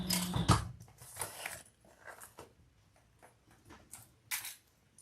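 A sewing machine stitches around the corner of a crossbody bag in short mechanical whirring bursts and clicks, separated by quiet pauses, close and fairly soft.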